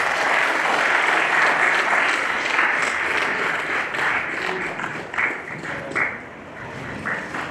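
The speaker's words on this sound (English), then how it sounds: "Big round of applause." Sustained applause from a seated ceremony audience at a university collaboration and signing event, steady dense clapping that thins slightly toward the end with a few louder bursts.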